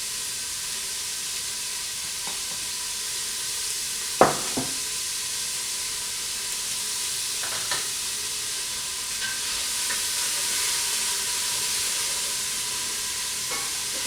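Onions and spices frying in shimmering hot oil make a quiet, even hiss and sizzle that holds steady throughout, broken by a sharp clink early on and a few softer scrapes.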